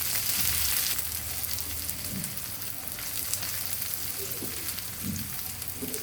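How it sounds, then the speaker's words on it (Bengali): Coriander leaves and chilies fry in a pan with a steady, close sizzle and occasional stirring scrapes. "ধনিয়া পাতা দিয়ে আবারও একটু ভেজে নিব।"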